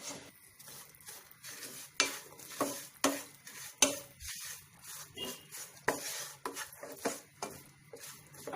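Jaggery stirred into ghee in a tawa over low flame for puffed rice balls: a spoon scrapes and clinks against the pan in a steady rhythm with a faint sizzle, close and fairly quiet.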